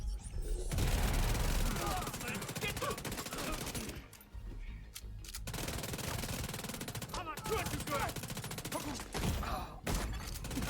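Rapid SMG gunfire in The Division 2 fills most of the stretch in dense, sustained bursts, with a short lull midway; voices talk over the shooting.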